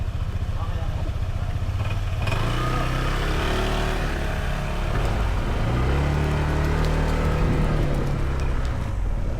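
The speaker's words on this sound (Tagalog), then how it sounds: "Mga motor." Motorcycles pass by near a church shrine, engines rising and falling as they rev past close by, with people talking over the traffic.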